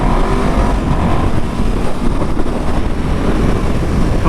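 Norton Manx motorcycle being ridden, a loud continuous engine roar blended with heavy wind rush, steady and close throughout.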